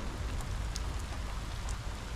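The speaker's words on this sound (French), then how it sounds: "Dehors, c'est tempête." Heavy rain from a thunderstorm outside, a steady dense hiss with scattered droplet ticks, continuous and fairly close, with no talking.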